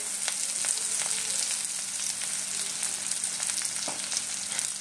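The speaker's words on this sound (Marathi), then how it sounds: "एक मिनिट चांगलं परतून घ्यायचं आहे।" Raw green mango and coriander stir-fried in a pan for mango rice, a quiet steady sizzle with a few light stirring taps throughout.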